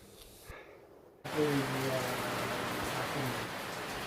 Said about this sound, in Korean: 히말라야 안나푸르나에서 느끼는 빗소리.